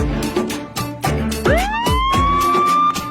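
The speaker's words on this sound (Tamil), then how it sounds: "ஆம்புலன்ஸ் வந்துச்சுங்க" Emergency siren from an arriving ambulance, a loud wailing tone that sweeps up and holds, repeating over a few seconds with rhythmic pulses beneath it, close by and with no speech.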